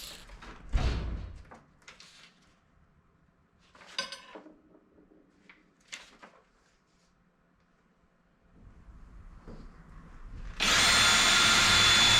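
A power drill bores pilot holes in aluminium RV-7A aircraft parts in a workshop, with scattered clunks and taps before the motor starts with a loud, steady whine at the end.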